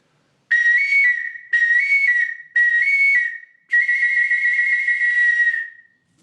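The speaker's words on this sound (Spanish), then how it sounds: "y por lo tanto el tono natural del silbato cambie" A prehispanic-style clay whistle blown in four breaths, three short toots then a longer held note, each a bright airy tone with slight pitch wobble.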